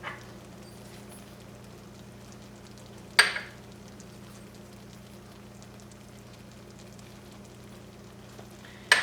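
A pan mixture with malt vinegar, salt and pepper being stirred, giving a steady low sizzle and scraping with a few sharper clatters of the spoon against the pan, faint and close, no talking.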